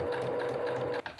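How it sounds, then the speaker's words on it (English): A sewing machine stitches a small rolled hem on a pillowcase edge, a fast, even mechanical whir with a steady motor hum that stops abruptly near the end. "I'm going to create a little rolled hem. To the sewing machine!"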